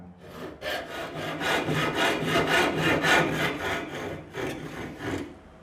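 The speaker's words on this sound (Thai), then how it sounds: "เลื่อยญี่ปุ่นของจีนเนี่ยแหละครับ เดี๋ยวลองดูนะครับ" A Chinese-made Japanese-style hand saw cuts through wood in quick, steady back-and-forth strokes, a close rasping scrape repeating about a dozen times before slowing.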